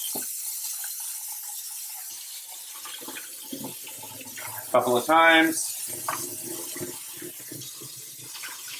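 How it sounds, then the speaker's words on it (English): Running tap water splashes steadily over food in a bowl for a birds nest breakfast dish, a continuous close rush with a brief louder gush, while a person speaks briefly. "we're going to rinse this off"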